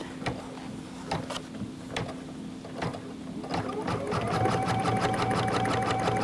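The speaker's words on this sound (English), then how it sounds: "we'll go ahead and stitch this next stitch stitch right here" An embroidery machine tacks down a pocket on a quilt block, starting with sparse taps and clicks, then settling into a rapid, steady mechanical stitching rhythm, close and clear.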